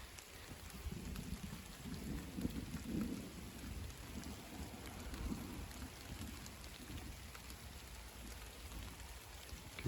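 A summer evening thunderstorm arriving, with steady heavy rain hissing throughout and low rolls of distant thunder swelling and fading underneath, without voices.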